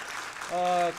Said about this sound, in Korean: 우리 발표해 주시는 김기현 위원장님께 다시 한번 감사의 박수 부탁드리겠습니다